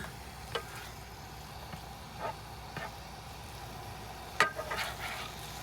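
Pork frying in a pan inside a car, a faint low sizzle with occasional soft stirring clicks and one sharper clatter near the end, quiet and without talk.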